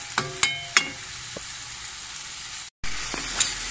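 Tomatoes sautéing for Filipino sarciadong tilapia, a steady close sizzle broken by a few sharp clinks of a utensil against the pan and a brief dropout near the end.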